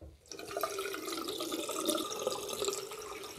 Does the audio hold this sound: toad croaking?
no